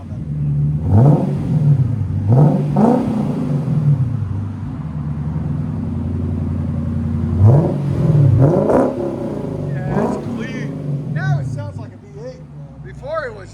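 Loud, close revving from a 2025 Lexus IS 500 5.0L V8 fitted with an X-pipe and Magnaflow Magnapacks: several quick blips rise and fall over a steady idle, with people talking and cheering between them.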